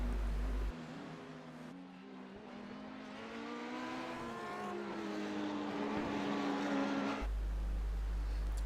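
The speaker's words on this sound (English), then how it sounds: "And Tobias Olsen and Nicholas Radi speeding away around Imola." GT3 race cars speed around the Imola circuit in a racing video game sprint series. Rising and falling engine whines layer over each other as several cars rev hard and pass, loud and continuous with no voices.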